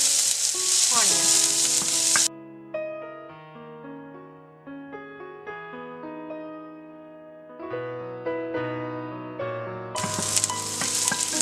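Finely chopped onion frying in a pan for rice noodle upma sizzles loudly at the start and again at the end, with instrumental music playing alone in between.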